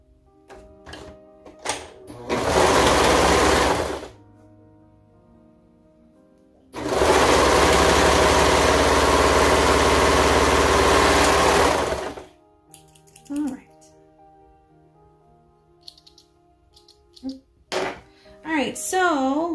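A sewing machine stitches the final side seam of a leotard in two loud sustained runs, the second longer, with quiet handling and a person talking in the gaps.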